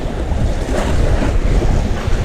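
Sea waves surge and splash around a rocky fishing spot, a loud, rough rush of water mixed with heavy wind buffeting the microphone, with no talking.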